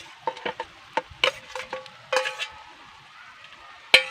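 Fried potatoes and fish are stirred into masala in a pan, with a series of distinct spoon scrapes and knocks against the metal in uneven bursts over a faint sizzle, close and clear.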